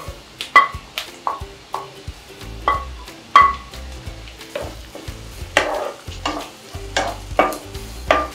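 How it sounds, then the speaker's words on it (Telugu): Onions, carrot and capsicum frying in melted butter in a pan, with close, lively sizzling broken by repeated sharp spatula scrapes and metallic clinks against the pan. "ఇలా బటర్ మెల్ట్ అయ్యాక ఆనియన్స్ వేసుకొని కొంచెం ఫ్రై అయ్యాక క్యారెట్ క్యాప్సికమ్ వేసుకుందాం"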